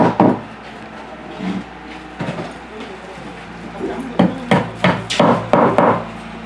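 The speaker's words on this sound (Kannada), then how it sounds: "ಅದಕ್ಕೆ ಮೊಳೆ ಹೊಡೆದು ಯಾವ ರೀತಿ ಅದನ್ನು ಜಾಯಿಂಟ್ ಮಾಡ್ತಾ ಇದ್ದಾರೆ ಅಂತ ನೀವು ನೋಡ್ಬೋದು" Nails being hammered into wooden panels to join a speaker box at a sound box factory, a series of sharp knocks, sparse at first and then quicker in the last seconds, with background voices and workshop noise.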